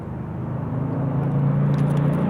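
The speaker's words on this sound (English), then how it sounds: "That GT sounds like a V6" A passing Ford GT with a V6-like engine note, heard as a steady low droning rumble that swells slightly as it nears, inside a moving 1997 Toyota Tacoma 5-speed pickup.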